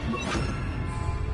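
The Bombarda blasting spell in the video game Hogwarts Legacy lands as a short, heavy crash with a quick whooshing burst, followed by a dense rumbling spray of debris over about a second.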